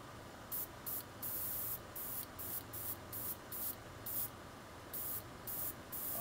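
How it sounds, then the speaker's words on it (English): Short bursts of sepia aerosol spray paint hiss in quick succession onto a 3D-printed frog lure, each lasting about a second, close up over a steady low background noise. "I'm spraying a detailed sepia."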